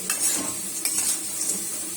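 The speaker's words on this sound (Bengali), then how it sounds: "মচমচা করে আলু ভাজা করা হচ্ছে" Potato slices fry crisp in a pan at home, a soft continuous sizzle with a few clinks and scrapes of a stirring utensil close by, and no one talking.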